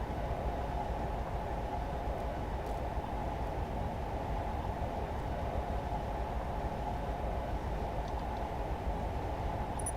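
A train rolls downhill in a train simulator on the Sakalo route, a steady even rumble of wheels and motor with no distinct events, moderately loud and constant.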